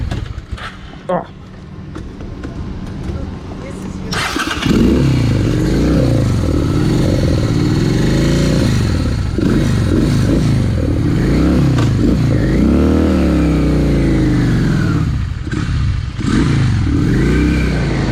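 A broken Dodge Shadow car engine starts and revs hard for a sustained stretch, loud and rough with rising and falling pitch, while it pumps out heavy smoke.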